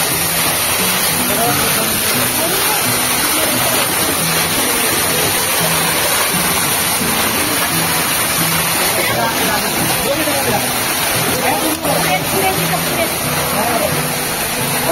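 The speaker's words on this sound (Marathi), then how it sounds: "धबधबा आहे मित्रांनो छोटासा" A small waterfall at a museum pours in a steady, broadband rush that continues unbroken at close range, with people talking over the water throughout.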